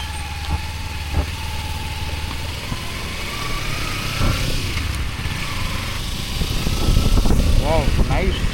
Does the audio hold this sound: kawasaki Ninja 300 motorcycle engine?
yes